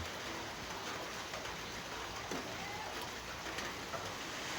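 Rain falls steadily as a dense, even hiss throughout, with a few faint bird coos in the background and no voices.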